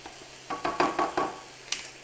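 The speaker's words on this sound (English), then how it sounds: "put in my chicken, you know, a little bit at a time, keep that sizzle up" Crackling bursts of sizzling as chicken pieces are dropped a little at a time into a hot pan, several short pulses close together, then a brief sharp clink; no talk.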